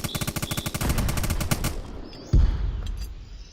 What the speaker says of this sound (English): I wish that it told me that I can just right click to use the MG